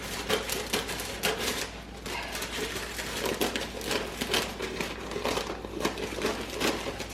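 Scissors snip and crinkle through paper lining for a Christmas cake tin, a close run of short rustling cuts and crackles with no talking.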